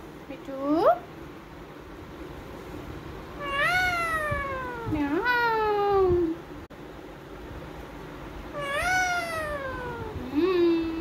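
A parrot imitates a cat's meow several times, rising and falling drawn-out mews, with a person's voice talking between them.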